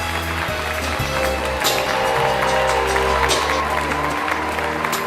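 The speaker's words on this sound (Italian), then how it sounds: "Sento ancora il battere delle mani." Hands clapping at an Italian stage awards night, a steady, full round of applause from an audience over sustained low music, continuing evenly throughout.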